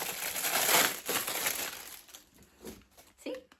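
Plastic packaging around a home gadget, holding an essential-oil item, is crinkled and torn open up close. The dense rustling crackle comes in bursts and thins out toward the end.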